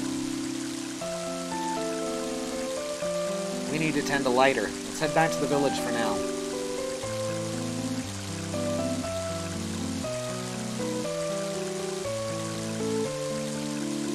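Rain keeps hissing softly behind the game music in Mother 3, while a voice speaks briefly in the middle.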